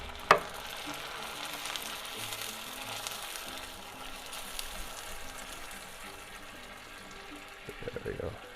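Onions sizzling over a BBQ grill after a splash of red wine vinegar, a steady close crackling hiss throughout with a sharp pop near the start and light clatter toward the end.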